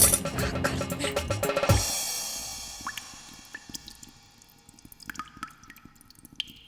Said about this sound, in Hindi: अब ये पानी कहाँ से टपक रहा है?